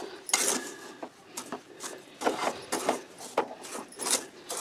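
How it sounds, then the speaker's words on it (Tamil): Spoon scraping and stirring rava laddu mixture as sugar melts in a hot pan, a run of uneven dry scrapes and clinks, close and fairly quiet, with no voices. "கிண்டிகிட்டே இருக்கணும்."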